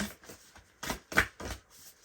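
Tarot deck being shuffled by hand, several short bursts of papery card riffles and slides close up, with quiet gaps between them and no talking.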